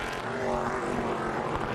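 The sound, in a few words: ARCA race cars revving over the jump at Lime Rock Park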